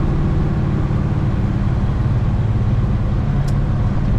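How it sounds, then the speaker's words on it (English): A 1970 Chevrolet Chevelle engine runs steadily while driving, a continuous low rumble filling the whole stretch, loud and close without any talking. "Nice sound to this Chevelle."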